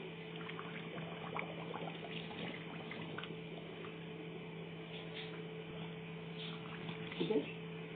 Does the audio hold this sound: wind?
no